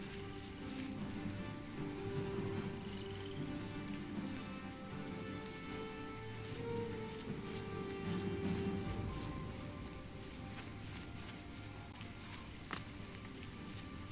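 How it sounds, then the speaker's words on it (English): Rain falls in the Oblivion video game world as a faint, steady hiss and patter, continuous and soft, with some low background ambience and no voices. "Oh, it's raining. Lovely."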